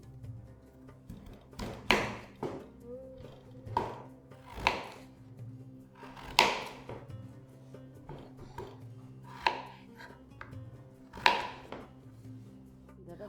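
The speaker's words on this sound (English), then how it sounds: "We cut the potatoes into long, thick pieces that will fit perfectly in the tagine." Knife chopping potatoes into long, thick pieces for a Moroccan vegetable tagine, a string of sharp blade thunks on a cutting board at an uneven rhythm, close and fairly loud, with no talking.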